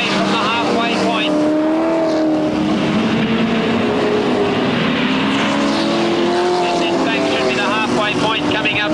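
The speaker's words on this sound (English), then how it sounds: "Nev Pizzuti coming down the straightaway is only now 1 lap away from the halfway point" Super sedan race cars roar around the Newcastle Motordrome speedway at a 1979 grand prix, several engines loud and continuous with rising and falling pitch as they pass, while an announcer talks over the noise.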